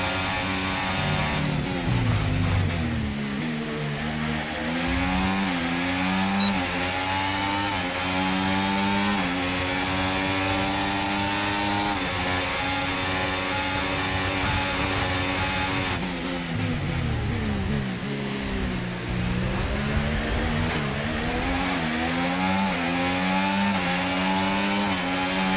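A Red Bull Formula 1 car in F1 24 at the Austria round climbs through the gears, its high engine whine rising, dropping at each upshift and rising again, loud and steady with no voices over it.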